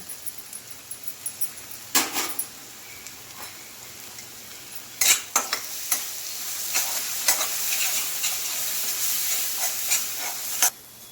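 Turmeric, garam masala and black masala roasting in a pan for a fresh green chickpea curry, a steady sizzle broken by sharp scraping strokes of a spoon stirring and mixing, loud and close with no talking.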